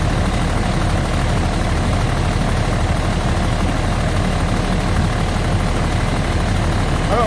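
An old fire truck with its tailpipe rotting off from the muffler back runs steadily at idle while building pump pressure, a continuous low, heavy engine drone with a throbbing, rotor-like rumble and no breaks.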